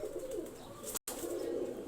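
Breeder pigeons cooing continuously in a loft, a low, throaty, rolling coo repeated close by, with a brief silent break midway.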